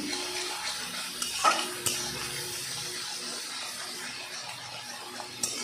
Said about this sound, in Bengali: দেখো মশলাটা কিন্তু এবারে এরকমভাবে নাড়তে হবে